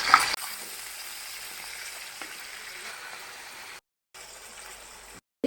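Tilapia fish frying in a wide pan, a soft continuous sizzle at moderate level that cuts out briefly near the end before resuming.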